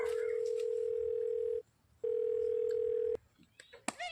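A steady telephone tone sounds twice, the first longer and the second shorter, separated by a brief gap, followed by a few clicks and faint background noise.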